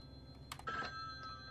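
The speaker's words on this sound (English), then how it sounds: "I hear a phone." A telephone rings in a horror video game with a thin, steady electronic tone, faint under quiet background noise, with a brief clatter of other sounds partway through.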